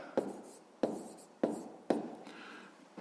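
A pen writes out a math solution on paper, four distinct quick strokes at a steady rhythm, close and quiet against a silent background.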